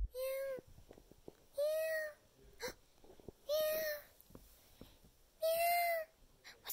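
Four drawn-out meows from a kitten, evenly spaced with quiet gaps and faint knocks between them; the meows may be imitated by a voice.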